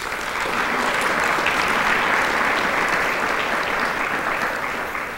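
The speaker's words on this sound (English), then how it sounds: "Give all of them a round of applause" Sustained applause from an audience at the 2022 Fountain Hills State of the Town Address, honoring the event staff; dense, steady clapping fills the room, loud and even throughout before tapering slightly at the end.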